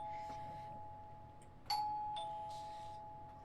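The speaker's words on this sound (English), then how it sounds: "Let's let the doorbell ring for a bit." A doorbell rings repeatedly in the video game Deluge Threnody of Crashing Waves, a clear electronic chime sounding at a steady pitch over a quiet ambient hum.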